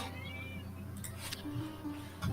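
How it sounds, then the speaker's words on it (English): A pet cat yowls in the background, a few short meows rising over a low steady hum, faint and distant behind a quiet room. "Apologize for my kitty in the background. She likes to yell."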